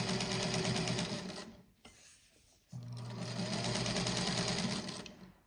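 A sewing machine runs steadily, stitching a seam on an autumn patchwork quilt block, pauses briefly mid-run and then resumes its continuous hum, loud and close with no talking.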